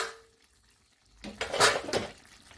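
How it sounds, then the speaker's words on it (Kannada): Washed squid pieces drop into hot masala in a pan, sending up a sudden wet sizzle and clatter that swells briefly after a near-silent moment and then fades. "ಇವಾಗ ನಾನು ಅದಕ್ಕೆ ಸ್ಕ್ವಿಡ್ ಪೀಸನ್ನು ಹಾಕ್ಕೊಳ್ತೀನಿ."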